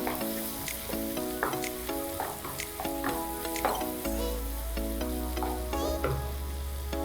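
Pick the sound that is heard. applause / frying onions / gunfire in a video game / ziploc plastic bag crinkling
frying onions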